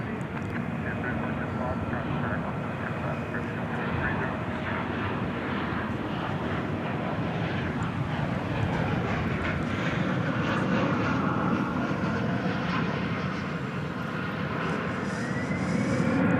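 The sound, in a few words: Qantas airliner, flight 22, departing for Melbourne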